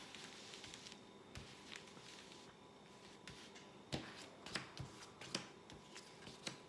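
Tarot cards are shuffled and drawn indoors, making soft, faint papery rustling, then a run of sharper flicks and slaps as cards are laid out one by one.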